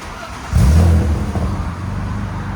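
A BMW S52 engine swapped into a 1986 E30 325es with a Magnaflow exhaust kicks in with a deep rev burst, then settles into a steady, throaty rumble close by.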